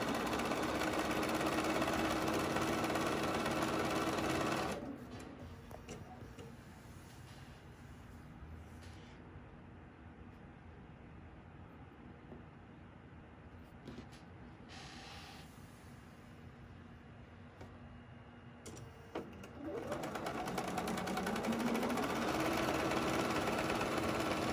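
A sewing machine chain-pieces pairs of fabric triangles, a steady mechanical whir running at the start, dropping to a softer hum through the middle and picking up again near the end.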